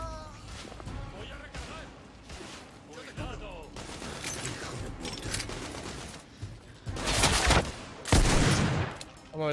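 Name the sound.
gunfire in a video game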